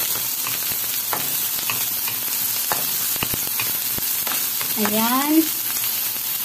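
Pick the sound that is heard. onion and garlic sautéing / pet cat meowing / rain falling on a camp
onion and garlic sautéing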